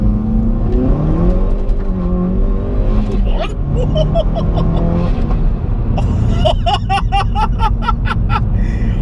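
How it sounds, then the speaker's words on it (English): A 320 bhp Hyundai i30N hot hatch pulls hard under acceleration, its engine droning and rising inside the cabin while a person reacts aloud, with some clicking and rattling near the end. "Okay, this thing is impressive. Wow, it's not necessarily the speed, it's how it's putting its power down."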